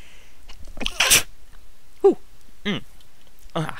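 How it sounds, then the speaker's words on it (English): A single loud sneeze bursts out close by, followed by a few short sniffs and breathy sounds. "Just a little bit of a sneeze all of a sudden."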